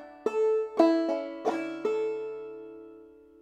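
A clawhammer banjo plays one measure of Soldier's Joy: five crisp plucked notes in a syncopated rhythm, bright and close, the last one ringing out and fading, with no talking.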